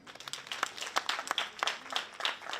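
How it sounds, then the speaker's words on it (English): Scattered, uneven hand claps at a university graduation ceremony, faint and sparse with individual claps standing out rather than a full ovation. "Please let's clap for him."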